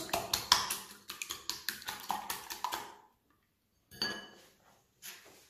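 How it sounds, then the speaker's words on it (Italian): Eggs with a pinch of salt are beaten in a bowl for a savory artichoke pie, giving a quick run of about a dozen rhythmic clinking strikes, then a pause and two more short bursts of tapping. "Metto un pizzico di sale nelle uova, le batto"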